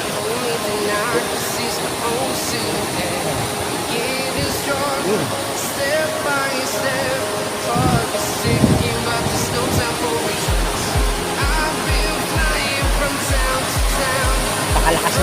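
River water rushes steadily and loudly with a constant hiss, and a low rhythmic thumping joins in near the end.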